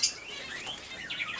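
A pigeon sings in short, faint chirping calls right beside a nest of young birds, a few thin bursts spread across the moment with no one talking.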